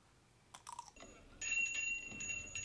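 A reception desk bell rings in The Good, the Bad and the Ugly, a bright sustained metallic ding after a few quick taps, ringing out fairly clearly alone.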